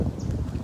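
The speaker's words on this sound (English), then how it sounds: "So you're gonna have a lot of wind noise" Heavy wind buffets an outdoor microphone on a very windy morning after a night of rain at a big cat sanctuary, a steady low rumbling roar with no voices.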